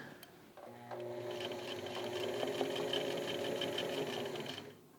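A sewing machine stitches a band collar onto a button-up shirt body, starting after a brief pause and then running in a steady, close mechanical whir that stops near the end.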